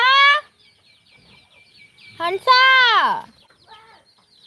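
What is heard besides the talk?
chickens clucking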